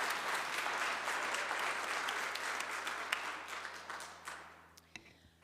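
An audience at a city council meeting breaks into sustained applause that rolls steadily, then thins into a few scattered claps and fades to near silence at the end.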